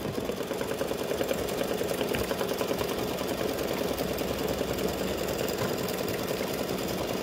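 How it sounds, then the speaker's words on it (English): An embroidery machine stitches free-standing lace in satin stitch for snowflake earrings, giving a steady, fast mechanical whir with a fine rapid rhythm that runs on without a break at close range. "I'm gonna let it stitch for a little bit so you can see what it's doing."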